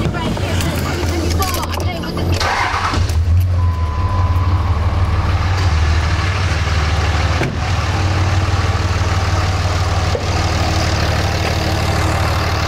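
Dodge Cummins 5.9 diesel in a 2003–2007 pickup turning over and starting after a fuel filter change, then settling into a loud, steady low rumbling idle, heard up close.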